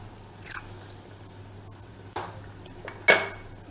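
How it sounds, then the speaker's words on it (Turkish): An egg cracked into a bowl of sugar, a few separate close taps and knocks against the bowl, the last crack loudest, with quiet pauses between. "Hemen bir yumurtamı kırıyorum."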